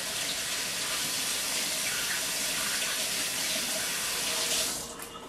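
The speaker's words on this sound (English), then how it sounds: "wash my hands." Hands being washed under a running kitchen tap, a close steady gush and splash of water that cuts off just before the end.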